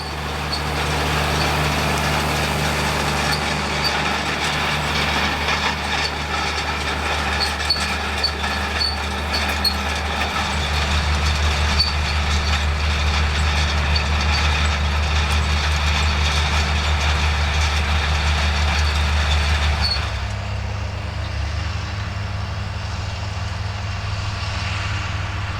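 A classic John Deere 4055 tractor pulls late-1980s 6-metre rolls behind a drill, a loud steady engine drone with rumbling, rattling roll noise that runs throughout and shifts in tone near the end.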